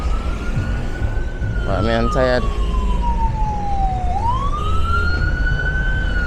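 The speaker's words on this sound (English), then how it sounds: "That's the ambulance." An ambulance siren sweeps past on a busy street between Trafalgar Road and Half Way Tree Road, a steady wail that dips and rises again as it passes, loud over traffic noise, with brief speech early on.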